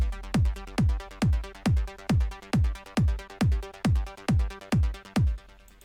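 A trance synth bass with delay plays alongside drums, a dozen punchy, evenly spaced hits at a steady pulse, each with a booming low body that decays quickly, the last one fading out at the end.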